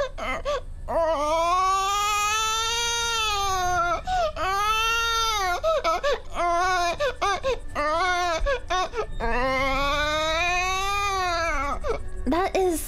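A human voice imitates the crying baby from the first Sims game, a neglected infant's wailing with rising and falling sobs repeated in several long bursts, close and alone.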